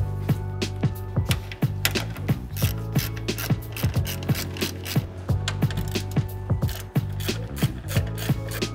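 A ratchet clicks rapidly and steadily up close while backing out 10 mm bolts from the top of a 2013-2018 Dodge Ram grille, with quick metallic pawl ticks in a continuous rhythm.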